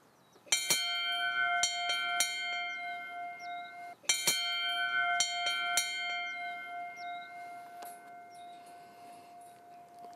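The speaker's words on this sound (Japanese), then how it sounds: "夫婦一緒に鐘を鳴らして永遠の愛を誓うということでございますね" The 'eternal bell' in Tagawa, with two chimneys standing behind it, is rung twice, each bright ringing strike followed by lighter clinks, and the ringing tone hangs and fades steadily between strikes.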